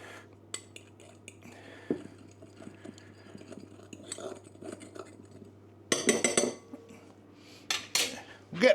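Carrots being tossed with a little oil in a bowl, giving soft clinks and scrapes of a utensil against the dish, with a burst of louder clattering and mixing near the end.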